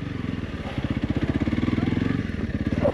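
A Honda CRF 300 Rally motorcycle engine runs off-road with a close, rapid, pulsing thump, its rhythm steady and slightly quickening, loud and alone.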